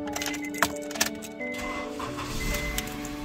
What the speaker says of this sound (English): let me just start the car